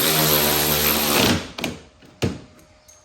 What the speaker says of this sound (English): I'm gonna use a 10mm Allen key to tighten down the spindle upper and lower bolt.